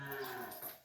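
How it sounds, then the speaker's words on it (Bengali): A single short, low moo from a small cow on a cattle farm, fairly faint, with no voices. "এত ছোট গরু"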